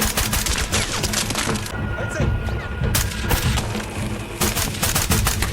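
Gunfire in a war film set among Afghan forest hills, dense bursts of rapid shots with booming impacts, loud and near, tapering briefly before the shooting resumes.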